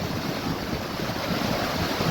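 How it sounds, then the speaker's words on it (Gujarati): Water rushing past in a farm stream, a dense continuous wash of noise with some wind buffeting the microphone, close and steady with nobody speaking. "અહીંથી પણ પાણી જાય છે મસ્ત મજાનું"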